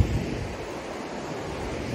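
A river flows beside a hiking trail on the Kungsleden between Ammarnäs and Jäkkvikk in August, a steady broadband rush of water mixed with wind noise on the microphone, continuous and fairly loud, with no voices.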